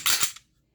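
A Glock pistol's trigger breaking with a sharp, crisp click after reset, a single short snap close up and alone.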